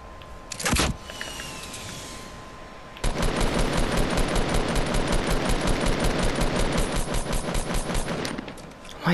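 Rapid automatic gunfire in a video game, a single sharp burst followed by a long sustained stream of fast, evenly spaced shots that is loud and close, with no talking over it.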